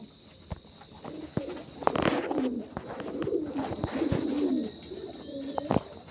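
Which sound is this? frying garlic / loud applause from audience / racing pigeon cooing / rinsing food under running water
racing pigeon cooing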